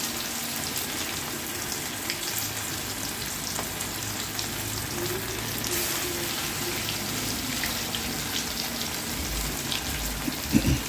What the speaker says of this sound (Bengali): এইভাবে আমি সব কটা চপ এক এক করে ভেজে তুলে নেব।